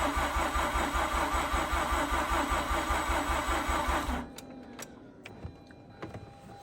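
A Mazda RX8 rotary engine cranks on a slow starter with a steady rhythmic churn for about four seconds without catching, then cuts off, leaving faint clicks and quiet shuffling.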